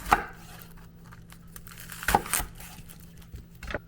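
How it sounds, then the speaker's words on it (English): Knife chopping onions, garlic and carrots on a cutting board: a couple of sharp, close chops separated by quiet pauses, then a final cut, with no one speaking. "I'm going to chop up a couple onions, some garlic, and some carrots."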